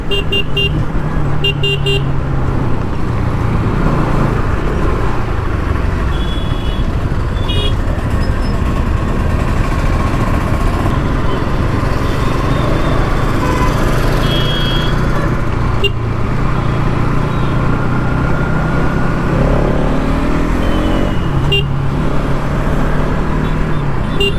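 Heavy road traffic near a petrol station keeps up a constant loud rumble of engines, with vehicle horns tooting now and then over the dense, continuous roar.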